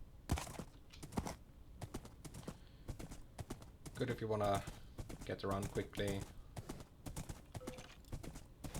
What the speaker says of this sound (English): it's just a horse.